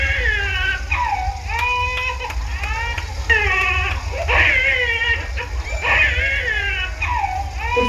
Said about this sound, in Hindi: उस बालिका के रोने की आवाज हुई